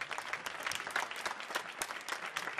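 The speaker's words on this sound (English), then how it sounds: "Give a round of applause for you guys for being here." Faint, distant audience applause at a high school vocal music concert on a stage: a dense patter of many hands, steady and brief, with no talk over it.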